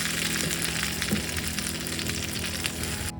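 Pea kachori filling with a little whole cumin frying in oil, a steady, even sizzle with soft crackles throughout and no voices.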